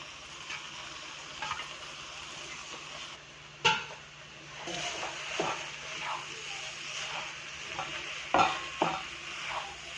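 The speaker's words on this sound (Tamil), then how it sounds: "நம்ம பாயில் பண்ணியிருக்கிற ரைஸை இதில் மிக்ஸ் பண்ணிக்கலாம்." Boiled rice is stirred into fried mint masala in a pan, giving a soft continuous sizzle with repeated spatula scrapes and occasional sharper clanks against the metal, close and quiet, without speech.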